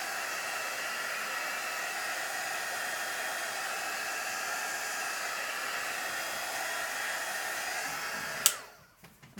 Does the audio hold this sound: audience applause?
no